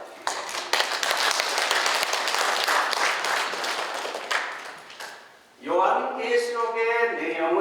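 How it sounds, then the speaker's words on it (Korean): A church congregation claps for one another during a sermon, a dense burst of applause that fades out after about five seconds before a voice resumes speaking. "우리 한번 서로에게 한번 박수를 한번 보냅시다"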